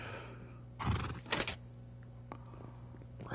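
A horse in the game Rust gives two short breathy neighs or snorts in quick succession over a faint steady hum, followed by a few light clicks.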